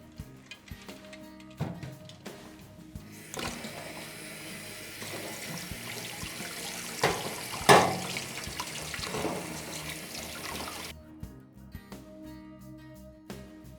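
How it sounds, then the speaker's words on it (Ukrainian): Tap water runs steadily for several seconds while eggs are rinsed under it, with clinks and handling noises before and after the flow. "Ми їх будемо промивати під проточною водою"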